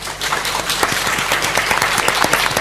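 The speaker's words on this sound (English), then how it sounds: "Please welcome our panelists and moderator with a big round of applause." Conference audience applauding to welcome panelists and a moderator, dense steady clapping from a crowd filling the room throughout.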